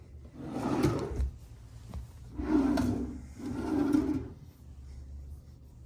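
Three rumbling wooden slides, a hotel-room drawer pulled open and pushed shut, each lasting about a second, close by with short pauses between.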